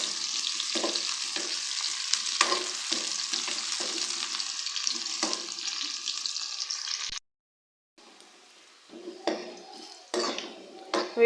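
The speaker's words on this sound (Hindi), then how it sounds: "प्याज को हम लोग गोल्डन कलर आने तक फ्राई करेंगे।" Onions fry in a pot for a Haddiyon Guddiyon ka salan, a bright, steady sizzle broken by scraping stirs and utensil clinks, then a brief silence before quieter clatter and sizzling resume.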